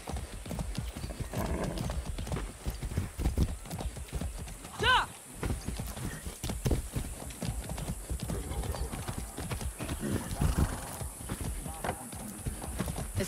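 Steady clip-clop of horse hooves trotting throughout, with a brief whinny partway through and voices talking over the hoofbeats, in the video game Far Cry 6.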